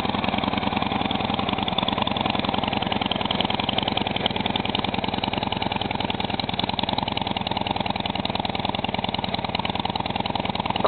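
A stock-exhaust 2011 Harley-Davidson Wide Glide motorcycle idles steadily and close by, a continuous low, throbbing engine rumble with an even rhythm and no talk throughout.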